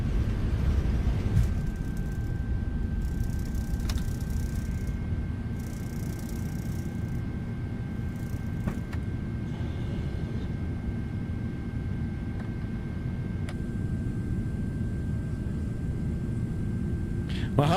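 The PMDG 777 airliner's engines at takeoff thrust in Microsoft Flight Simulator produce a loud, steady roar and low rumble that holds evenly from start to finish.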